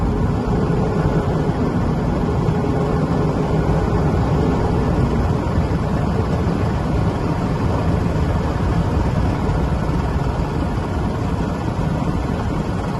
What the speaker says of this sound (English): Now that I'm starting my truck, I'm going to charge it until I hear my governor.